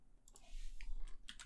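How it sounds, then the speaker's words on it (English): Typing on a computer keyboard during a podcast-style stream, a quiet scatter of light key clicks and taps heard faintly and close to the microphone. "Ignore the typing sounds that you hear"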